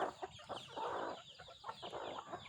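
Chickens cluck and murmur in a farmyard flock, a steady run of soft, overlapping calls at moderate distance with no talking over them.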